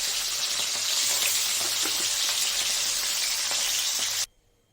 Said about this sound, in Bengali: এই যে বেগুনটাকে আমি ভেজে তুলে রাখছি এই যে বেগুনটাকে ভেজে নিচ্ছি